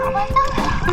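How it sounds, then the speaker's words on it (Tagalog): A freshly caught fish flops and splashes in the shallow water of the Daraitan River, giving a close run of short wet slaps and splatters over about a second, mixed with excited voices. "Uy, tumatalon-talon pa isda."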